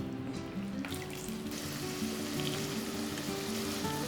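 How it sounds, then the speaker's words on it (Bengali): Red chilies frying in hot oil for a Bengali red chili and lemon pickle, with a steady sizzle running throughout and a brief crackle near the start, with no talk. "এবার লঙ্কাটা আস্তে আস্তে তেলের মধ্যে দিয়ে দিচ্ছি।"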